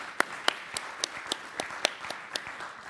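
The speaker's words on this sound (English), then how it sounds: "so let's give them a nice round of applause" Scattered hand claps from a small audience applauding conference panelists, about ten sharp separate claps over three seconds, irregular and fairly close, with faint room noise between them.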